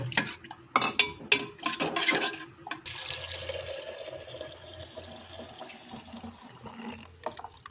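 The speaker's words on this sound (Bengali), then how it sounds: "এটা এখন আমি ভালোভাবে ফেটিয়ে নেব" Yogurt is whisked in a bowl by hand as a starter for traditional home-set curd. Quick, sloppy liquid sloshes and knocks against the bowl come first, then give way to softer, steady swirling with occasional light taps.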